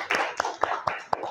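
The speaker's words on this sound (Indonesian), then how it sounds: "Tepuk tangan untuk Renita." A few people clap for a student in an online accounting class, five sharp, slightly uneven claps in a quick rhythm, close and fairly loud.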